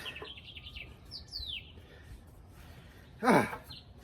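Scattered bird chirps and tweets, with a sudden louder squawk-like call near the end, against quiet outdoor ambience.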